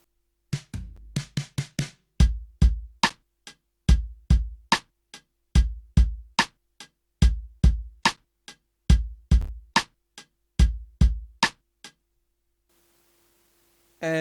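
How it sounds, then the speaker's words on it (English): Programmed one-shot drums with a drum fill from the Prototype Drums plugin, a steady kick-and-snare groove of sharp hits, then a few seconds of quiet with a low hum at the end. "I then programmed one-shot drums"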